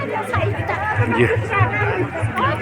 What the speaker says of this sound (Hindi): वहाँ पे शायद सांस्कृतिक कार्यक्रम चल रहे हैं, वहाँ से ये आवाज़ें हमको आ रही हैं